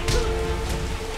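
Rain falling in the video game Pit People, a steady, dense patter that fills the short stretch evenly without pause, with no voices over it.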